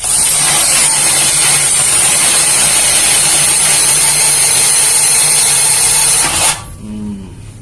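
A Kamolee 10mm brushless cordless drill runs loud and steady at high speed for about six seconds, then cuts off sharply and whines down briefly.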